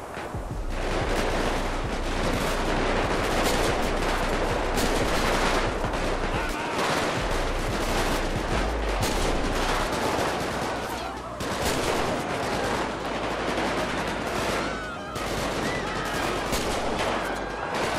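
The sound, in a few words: sniper rifle gunfire in video game GTA V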